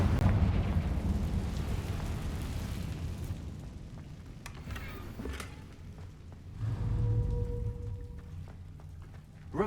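Deep rumbling blasts from the Confringo spell in Hogwarts Legacy, a heavy low boom swelling and fading twice over a continuous roar, with no voices.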